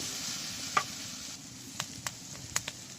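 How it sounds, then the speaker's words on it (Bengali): Spices with salt, turmeric and coriander powder fry in oil in a village kitchen: a steady, close sizzling hiss runs throughout, broken by a few sharp clicks and taps from stirring. "দিয়ে সুন্দর করে মশলাগুলো ভেজে নেব।"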